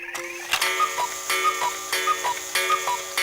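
A cuckoo clock chimes its two-note call several times in a steady rhythm, with bright bell-like ticks and ringing tones, close and clear with no talking.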